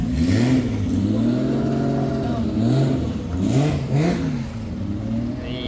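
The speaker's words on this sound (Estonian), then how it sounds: "Siit väike etanooli lõhk juba tuleb." An ethanol-fuelled car at a drag racing event in Malta revs and accelerates, its engine pitch rising and falling in repeated sweeps, loud and close, with brief bursts of higher hiss and clatter over a steady background roar.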